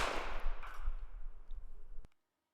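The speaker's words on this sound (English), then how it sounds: "Here's what the gunshot sounds like." A gunshot sound effect from an MP3 sample plays alone: one loud, sharp report followed by a long, fading echo tail that cuts off abruptly into silence.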